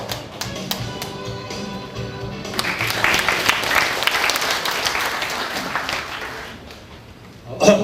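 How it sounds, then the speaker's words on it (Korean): Audience at a book launch event claps in a sustained burst of applause that swells and then tapers off, filling the room with steady hand claps. "박수로 많이 해주세요."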